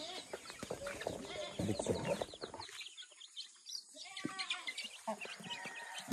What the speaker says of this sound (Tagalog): Meron din ako ditong sisiyo na kabago-bago pa lang siya.